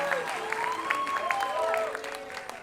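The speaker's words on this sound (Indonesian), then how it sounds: "dari Cimahi tepuk tangan ya" Studio audience at an Indonesian comedy talk show applauds steadily, a broad wash of clapping with some cheering, while a host's voice and musical tones run over it.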